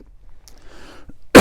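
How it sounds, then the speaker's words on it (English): A man coughs once, loud and close, in a single harsh burst at the end after near silence, inside a barn. "I'm coughing in the video"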